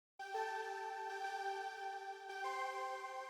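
A steady, bright synthesizer arpeggio sustains with layered harmonics, shifting slightly partway through, played alone.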